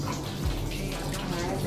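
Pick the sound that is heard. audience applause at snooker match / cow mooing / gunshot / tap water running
tap water running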